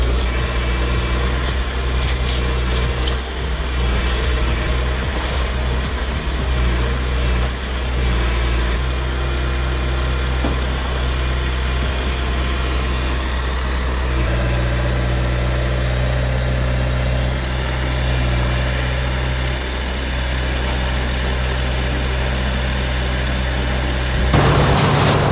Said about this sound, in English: Branches turn into chips like butter.